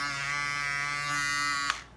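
Wahl Shaver Shaper electric foil shaver running close up, a loud steady motor buzz that holds for nearly two seconds before cutting off abruptly.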